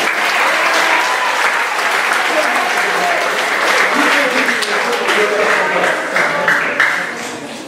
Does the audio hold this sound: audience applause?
yes